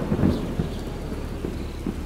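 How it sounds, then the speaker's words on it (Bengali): Rumbling thunder rolls under a steady wash of heavy rain in a stormy evening scene, with a deep burst near the start and softer swells after, continuous and fairly close. "ঝড়ের পর এলো বৃষ্টি, সন্ধ্যার অন্ধকারকে সঙ্গে করে"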